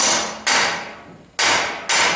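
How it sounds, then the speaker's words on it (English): Three sharp metallic hammer blows ring out against a rusty bolt nut on a vehicle's rear spring, each strike loud and close with a decaying ring, spaced unevenly. "try to loosen the bond of the rust by backing the bolt nut with a hammer"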